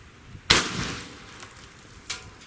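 A ZEUS .72 caliber air rifle fires a slug, giving one sharp, loud blast with a short decaying tail, followed about a second and a half later by a second, fainter report.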